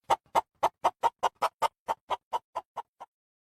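A chicken clucks in a rapid, evenly spaced run of about thirteen short, loud clucks that slowly fade over three seconds, heard alone with no talking.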